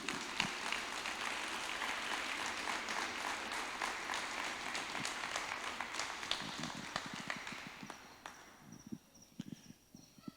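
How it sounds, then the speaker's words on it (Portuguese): Applause at a church service, dense clapping from a congregation that holds steady and then thins into scattered claps near the end. "Mais uma salva de palmas para Jesus."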